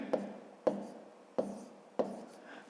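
Pen strokes on paper while writing out a column multiplication, four distinct taps spaced about half a second apart, quiet and close with short decays.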